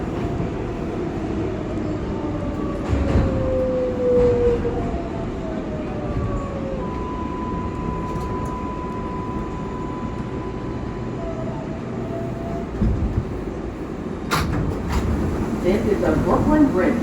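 An IRT 6 local subway train, an R142A, rumbles steadily along the tracks in New York, with squealing wheel tones rising and falling and a few sharp metallic clanks near the end.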